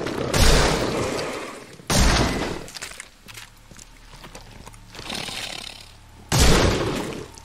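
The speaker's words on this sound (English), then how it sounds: "Shotgun." A shotgun fires in The Sinking City as three loud, sharp blasts a few seconds apart, with fainter game thuds and rumbles between them.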